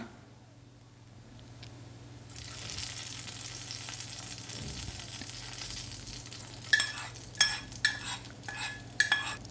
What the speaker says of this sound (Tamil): கடுகு நல்லா பொரிஞ்ச பிறகு கொஞ்சமாக கருவேப்பிலை சேர்த்துக்கலாம்